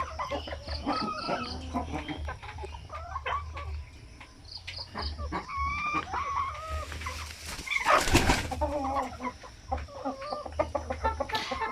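Several chickens cluck and chatter nearby in an irregular stream, with a brief louder squawk near the end and insects buzzing faintly in the background.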